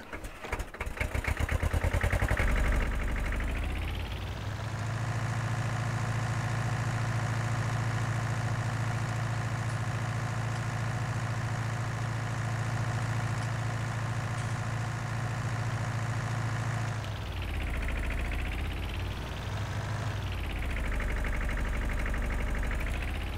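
Tractor engine in Farming Simulator 19 starting with a burst of cranking and then settling into a steady, loud idle hum, with brief rises in pitch near the end as it revs.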